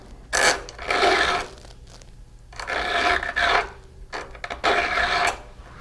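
A flat file rasps across chainsaw depth gauges in three long grinding swipes, close and loud, with brief pauses between strokes and no talking.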